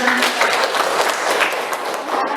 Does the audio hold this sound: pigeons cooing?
no